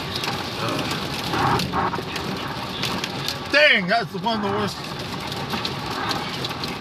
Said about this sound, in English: No, it's just rain.